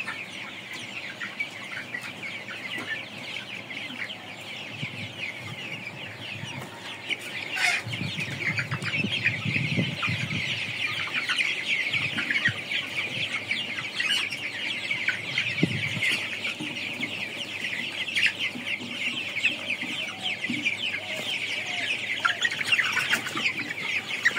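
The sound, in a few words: colored broiler chickens clucking on a poultry farm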